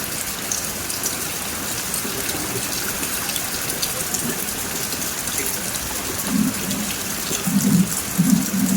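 Steady storm rain falling close by, a dense hiss with heavier patter, while muffled voices murmur faintly toward the end.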